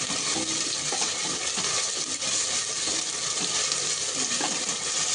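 Ginger-garlic paste frying in a pan for gongura chicken curry gives a loud, dense, continuous hissing sizzle that stays steady throughout.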